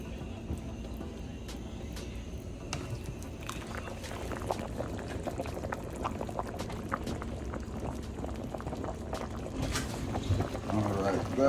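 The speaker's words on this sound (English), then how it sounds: "I'm just going to go ahead and let this bad boy simmer" Jamaican-style chicken noodle soup with pumpkin simmers in a pot, giving a soft steady bubbling and popping, faint and close, with occasional louder blips.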